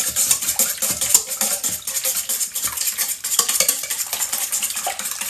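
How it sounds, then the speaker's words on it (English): Eggs are whisked briskly in a mixing bowl, a close, loud run of fast clinking, tapping strokes against the bowl's sides that continues steadily with no talking. "I just whisk up those eggs really good"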